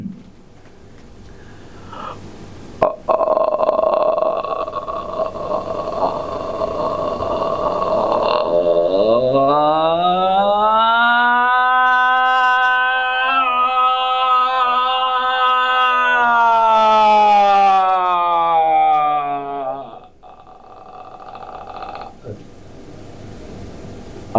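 A human voice imitates an auto-rickshaw engine starting, then sweeps upward into a long, loud, wailing siren tone and drops back into the engine sound. The single sustained imitation lasts around seventeen seconds.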